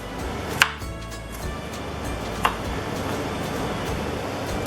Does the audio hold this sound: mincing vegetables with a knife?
yes